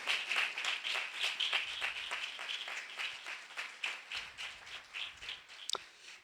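A church congregation claps together in a fast, even rhythm, many hands striking roughly in time, fairly loud and sustained throughout, with no voices over it.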